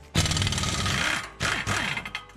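An air impact gun hammers on a 13 mm oil pan bolt of a Honda Accord V6, firing two loud, close rattling bursts separated by a short pause, with a faint whine as the tool spins down.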